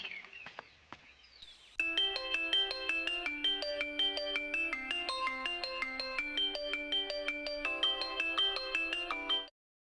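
A phone ringtone plays a bright electronic melody in a steady, repeating pattern, loud and close, then cuts off abruptly after a few brief clicks and rustles at the start.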